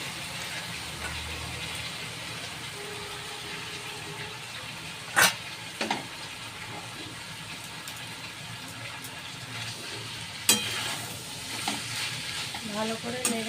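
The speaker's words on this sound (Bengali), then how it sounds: "আর আমি সিদ্ধ করা ভার্মিসেলিটা সবজির সাথে মিশিয়ে দিচ্ছি এরকম।" Boiled vermicelli being stirred and mixed with vegetables and a little turmeric in a frying pan, a soft steady sizzle with scraping spoon strokes and two sharper clacks against the pan.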